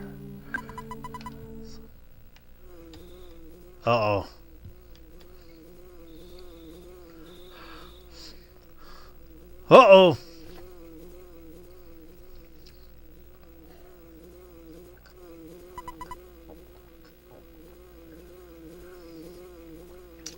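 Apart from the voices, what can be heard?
bee buzzing, flying around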